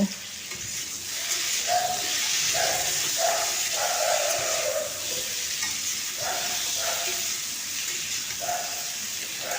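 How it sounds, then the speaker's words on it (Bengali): Potatoes fry in hot oil until browned, giving a steady, close sizzle with intermittent scraping stirs, no voices present. "আলুগুলো আমি দেখুন একদম লাল লাল করে নিচ্ছি"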